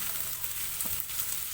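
Garlic, fresh turmeric and spices fry lightly in a pan, giving a soft, steady hiss with one brief stirring scrape, close and quiet.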